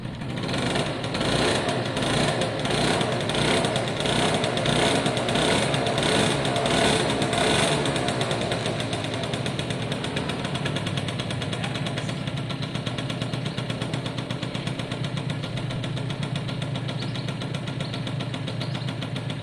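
A small Suzuki AP50 50cc two-stroke moped engine runs steadily and close by, a buzzy, high-revving rattle that holds for the whole stretch with a slightly choppier beat early on, and no talking over it.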